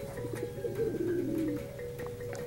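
A pet pigeon coos softly in a low, rolling burst near a fishpond, faint against a quiet background hum with light scattered ticks.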